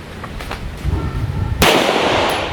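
A single sharp 9mm shot from a CZ TS2 pistol cracks out at a shooting match after a stretch of quiet background murmur, loud and close, followed by a short fading ring.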